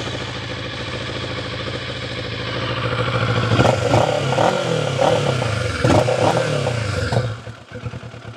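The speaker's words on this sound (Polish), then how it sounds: "Posłuchajcie teraz, jak pracuje Kawasaki." Kawasaki Versys 650 motorcycle engine idling steadily, then revved in a few sharp throttle blips with rattly mechanical clatter, close and loud, before dropping back toward idle.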